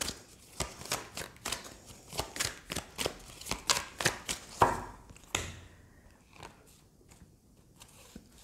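Tarot cards being shuffled by hand, a run of quick crisp riffling bursts in a steady rhythm, close and fairly loud, then tapering into softer handling noises with no talking.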